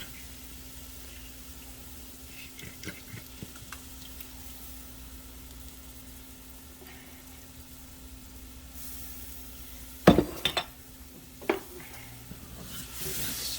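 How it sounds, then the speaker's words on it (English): Green chili stirred into chicken corn chowder cooking in a pan: a low, steady sizzle, then a few sharp scraping clanks from the spoon near the end, with no talking. "Stir that in, let that cook."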